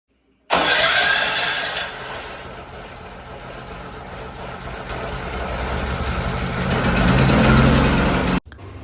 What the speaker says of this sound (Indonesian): kitong menyalakan genset menggunakan bahan bakar yang telah kitong bawa dari kota